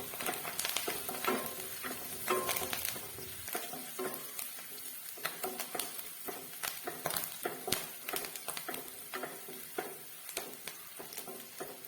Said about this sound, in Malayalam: ഇത് രണ്ടും കൂടി നന്നായിട്ടൊന്ന് ഇളക്കി മൂപ്പിച്ചെടുക്കാം